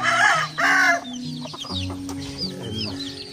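Chickens outdoors in San Francisco cluck and crow close by, opening with two loud crowing calls followed by a scatter of quicker clucks and chirpy notes.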